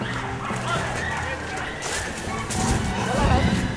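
A hunting dog barks and yelps excitedly at a wild boar during a hunt in the woods, giving repeated sharp barks mixed with whines amid rustling, while someone speaks over it.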